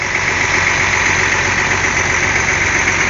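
A bus engine idles close by, a loud steady rumble with constant broadband mechanical roar and no change in pace.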